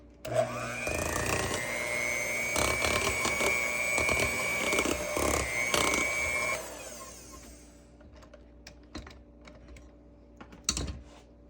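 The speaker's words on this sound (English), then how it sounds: "Again, beating on slow. It's gonna be our final mix." An electric hand mixer beats cake batter on slow speed, a loud steady whir rattling against the bowl for about six seconds, then it stops and a few quiet clinks and scrapes follow.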